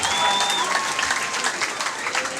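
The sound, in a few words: audience applause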